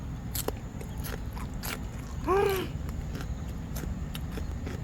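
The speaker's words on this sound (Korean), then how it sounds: "원래 우스타 소스 요거는 얘를 찍어 먹어봐야지 이제 맛을 아는 거 아니야." Food dipped in Worcestershire sauce being bitten and chewed at a rainy autumn campsite, a few soft crunchy bites alone at close range with a brief squeaky sound in the middle.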